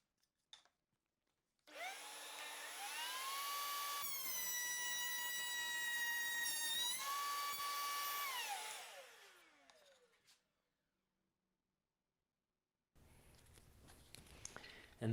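Router cutting across a wood board on a small sled fitted with a sacrificial backer board, a loud steady whine that runs for several seconds, shifts pitch mid-cut and spins down, with a brief rustle afterward.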